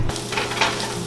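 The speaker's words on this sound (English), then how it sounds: "we're gonna start by adding in some olive oil and lightly frying the garlic." Garlic frying lightly in olive oil gives a steady close sizzle with some stirring scrapes throughout the short stretch.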